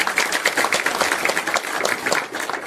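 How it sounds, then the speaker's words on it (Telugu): Audience applause at a film preview event at a studio, a dense, steady burst of clapping from a sizeable crowd, loud and close throughout with no talk over it. "దానికి మీరు చప్పట్లు కొట్టాలి."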